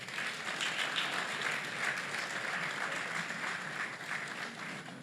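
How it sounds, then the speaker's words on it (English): A crowd of students applauds at a meetup with animation professionals, sustained even clapping that carries through the whole clip at moderate distance. "A round of applause once more."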